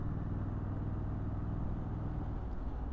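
A 2021 Triumph Street Scrambler motorcycle engine pulls at around 3000 rpm. It makes a steady, low, rumbling drone, fairly quiet and even throughout, with no talking.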